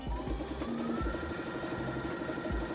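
A sewing machine runs a gathering stitch on dress fabric in short, quiet bursts, with its motor whirring and the needle chattering between brief pauses.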